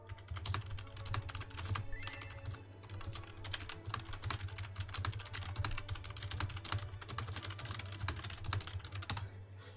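Quick, steady typing on a computer keyboard during a Final Fantasy XIV stream, dense clicking keystrokes over a constant low hum, close but fairly quiet.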